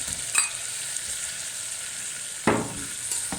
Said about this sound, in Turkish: Ben şimdi kızartmalarımızı atacağım.